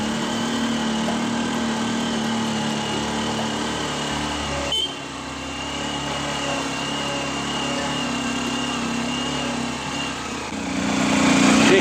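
A motorcycle engine drones steadily, straining up a mountain road near Lava, North Bengal, with a brief dip midway and the revs rising louder at the end.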